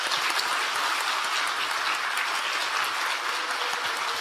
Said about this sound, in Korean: 우리가 감사의 박수 한번 보내드리시죠